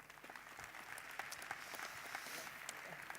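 At a youth conference in Doha, a seated audience gives a round of applause for two student presenters, a dense, even patter of many hands that sounds faint and distant.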